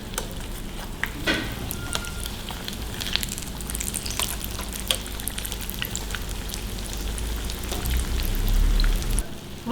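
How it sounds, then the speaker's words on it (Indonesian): Spring rolls filled with tofu batter, vermicelli and sausage fry in hot oil, giving a soft, continuous crackling sizzle with scattered pops and spits throughout. "Oke, minyaknya sudah panas, kita goreng"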